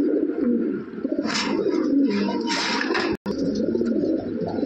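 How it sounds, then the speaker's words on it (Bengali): Large Lahori pigeons, including a jumbo red Lahori pair kept as breeding birds sitting on eggs, coo in a steady, overlapping low murmur close by, with brief louder bursts and a short dropout near the end. "অনেক বড় সাইজের কবুতর এগুলা"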